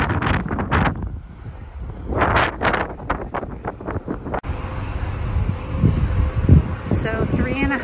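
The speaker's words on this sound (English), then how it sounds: "It's crazy windy up here, but it's beautiful and nobody is up here." Strong wind roars and buffets the microphone on the open top deck of a cruise ship at sea, loud and gusty throughout, with a person talking over it in the first half.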